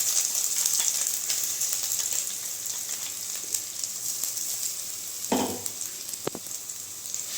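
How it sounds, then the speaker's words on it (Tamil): Ground coconut sizzles and fries in ghee in a pan, a steady hissing crackle with a couple of brief stirring scrapes near the end, no voices. "இதையே நல்லா வறுத்து எடுத்துக்கலாம்."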